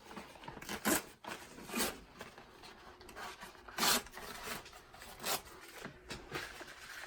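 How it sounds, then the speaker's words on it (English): Tear-away embroidery stabilizer ripped from embroidered fabric after unhooping, a series of short rasping tears in uneven bursts, close and fairly quiet, with no talking. "Rip away the stabilizer."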